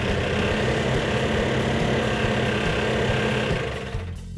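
Plymouth Cuda 340 V8 running rough on about six cylinders with low compression, a continuous uneven idle rumble that stays loud and steady before dropping off near the end.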